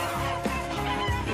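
Geese honk and cackle together in a busy, continuous flock chorus, fairly close and steady throughout.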